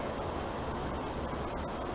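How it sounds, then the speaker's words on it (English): An MSR WhisperLite backpacking stove burns at full gas, a steady broadband roaring hiss that stays constant and close with no pauses or voices. "Turn the gas all the way up"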